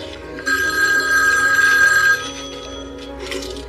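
A telephone rings in a home, a loud sustained electric bell ring lasting about two seconds, then stopping, with faint room noise after.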